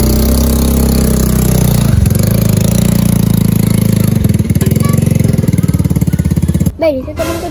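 A motorcycle engine idles close by in a loud, rapid, even chugging putter that shifts pitch a few times and then cuts off near the end.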